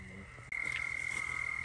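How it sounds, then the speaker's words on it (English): A large spadefoot toad calls up close during a spring night outing in Georgia, a steady pulsing drone that starts abruptly and holds loud and continuous to the end. "He keeps calling from right there. Watch. That's a huge spade foot."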